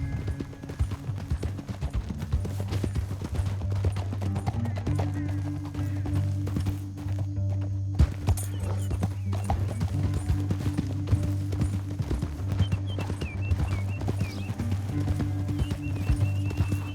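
Steady clip-clop of horse hooves trotting throughout in the video game Red Dead Redemption 2, fairly loud, over a low droning music bed with a brief whinny in the middle.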